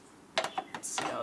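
A metal part sliding into place on a Porsche 911 rear spring plate assembly, a short run of close clicks and scrapes followed by a brief grinding slide.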